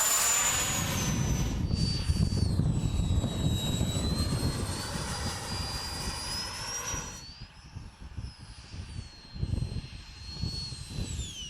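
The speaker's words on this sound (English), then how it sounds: "Flying low and slow was a big fun with the Harrier." A 3D-printed RC Harrier STOL jet passes low and slow, its steady ducted-fan whine loud and close, the pitch rising and shifting as the model banks, with wind rumble below.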